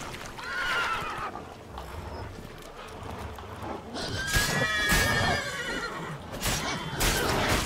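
Horse in The Witcher 3 video game whinnying repeatedly over clip-clopping hooves, close and fairly loud, with neighs clustered near the start and in the second half.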